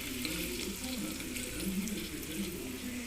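About half a tumbler of water poured into a pan of cooking pepper pumpkin makes a steady close rush and splash with a faint sizzle beneath, continuous for a few seconds.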